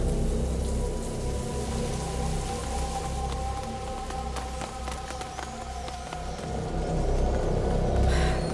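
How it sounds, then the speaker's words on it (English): Steady rain in the video game A Plague Tale: Innocence, a continuous wash of falling water with a few brighter drips, moderately loud and unbroken throughout. "Lucas, Hugo, stay out of the rain."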